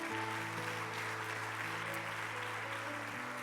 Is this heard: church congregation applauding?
yes